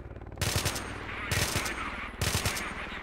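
Abakan assault rifle fire in S.T.A.L.K.E.R.: Call of Chernobyl, heard as three short bursts of shots with loud, sharp cracks over a steady background of game noise.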